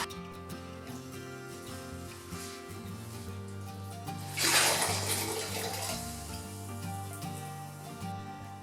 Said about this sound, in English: Get the water in the bowl out. I just use a cup, scoop it out.